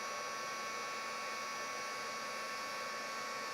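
A heat gun blows steadily over card for heat embossing, a faint continuous hiss and whir with no change in level and no talk.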